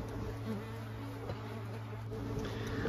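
Wasps swarming in a garden compost bin, a dense continuous buzz of many insects at close range, steady and fairly loud with no voices.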